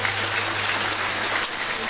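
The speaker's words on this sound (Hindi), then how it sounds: "ताली बजाकर धन्यवाद दो माता को।" Applause from an audience at a Hindu devotional talk, a steady dense patter of clapping that fills the whole stretch at moderate level with no break.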